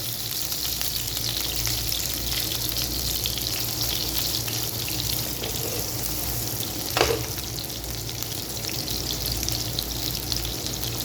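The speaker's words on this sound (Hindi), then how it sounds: "हमने चारों साइड से इनको गोल्डन ब्राउन करना है, ठीक है। इस तरह इसको जगह पलटाते रहेंगे" Seekh kebabs fry in a pan over low heat, turned so each side browns, giving a continuous soft sizzle and crackle with one brief clatter midway, close and alone.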